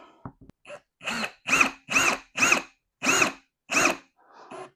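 A power drill whirs in about seven short, evenly spaced bursts, each rising and cutting off, close and loud with no talking.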